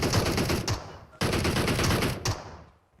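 Gunfire in the video game PUBG Mobile: two close, loud bursts of rapid automatic fire, each rattling for about a second before tapering off, with a short gap between them.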